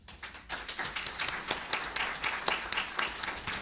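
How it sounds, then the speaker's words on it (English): Audience applause after a live band performance at a tribunal event, steady crowd clapping with sharp individual claps standing out throughout, loud and close. "A big applause."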